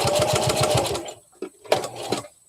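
A home sewing machine runs in a fast, steady stitching burst for about a second, then stops, leaving a few soft clicks and handling noises.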